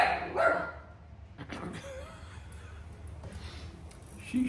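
A young dog about four and a half months old gives a couple of near, sharp barks at the start, then a quieter yelp near the end over a low background hum.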